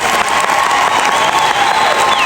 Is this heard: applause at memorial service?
yes